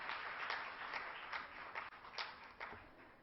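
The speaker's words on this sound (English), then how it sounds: "Let's just all applaud them." Audience applause at a diabetes conference hall honouring award winners, a steady wash of many hands clapping at moderate level, fairly distant and continuous throughout.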